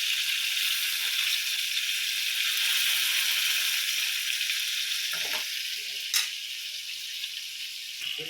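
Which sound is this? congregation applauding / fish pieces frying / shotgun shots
fish pieces frying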